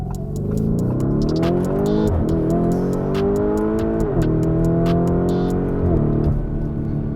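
A 2021 Lamborghini Urus accelerates hard from inside the cabin. The loud engine roar rises through several gears, with brief dips at each shift, and sharp clicks and pops sound over it throughout.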